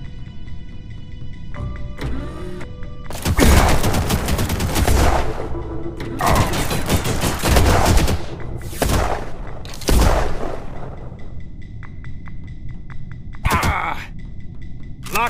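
Sniper rifle shots in the G2 Fighter mobile shooter game: several loud, sharp cracks, each ringing out briefly, spaced a couple of seconds apart over a steady hum of game background.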